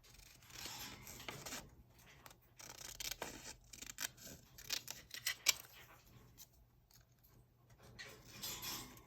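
Scissors snipping small craft pieces from paper at a desk, faint close snips and rustling in irregular bursts, quiet and unaccompanied by speech.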